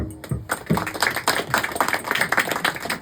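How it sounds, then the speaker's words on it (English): A stand-up comedy audience clapping at a deliberately moderate, half-strength level on a host's cue, a scattered patter of hands with individual claps audible across the room. "Let's put your hands together and make an applause like 5 out of 10"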